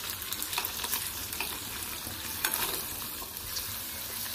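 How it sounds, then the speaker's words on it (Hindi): Paneer frying in a pan with garlic and green chilli, giving a steady, faint sizzle with light crackles and occasional stirring scrapes, with no talk over it. "ये देखना हमारा पनीर फ्राई हो रहा है"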